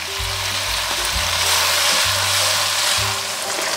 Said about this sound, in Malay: Wow, dia macam digoreng.